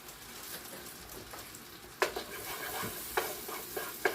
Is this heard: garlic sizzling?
yes